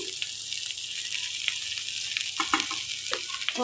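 Potatoes and prawns frying in a pan give off a steady hiss and crackle, with a few louder spatters and pops near the end.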